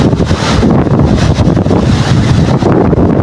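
Strong waves churn under heavy, constant wind buffeting the microphone, a loud, close roar of rushing air and surf that carries on without a break and with no talk over it.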